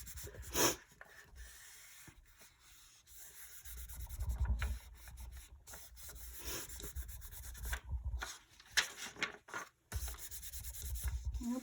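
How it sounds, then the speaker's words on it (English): Polymer clay trinket box being burnished, a steady close rubbing and sanding-like friction that comes and goes in strokes over about eleven seconds, with a few sharper scrapes and bumps along the way. "We'll give this a little burnish."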